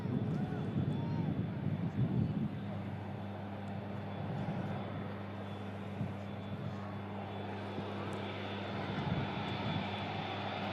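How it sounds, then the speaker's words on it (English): The engines of a Cathay Pacific Airbus A350 set out for Hong Kong give a steady, broad roar with a low hum beneath it, heard outdoors at moderate distance while voices talk over it. "we have the Cathay Pacific Airbus A350 for Hong Kong"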